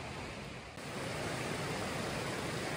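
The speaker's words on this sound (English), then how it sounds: "It's raining." Steady rain hisses over a backpacking route on the Quehanna Trail, a dense, even wash of noise that thickens slightly partway through with no voices.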